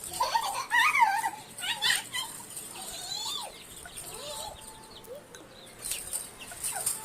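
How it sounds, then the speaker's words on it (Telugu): Young chicks clucking and peeping as children try to catch them, with repeated close, lively calls that rise and fall across the moment. "ఇప్పుడు కోడి పిల్లల్ని పట్టుకుంటారు"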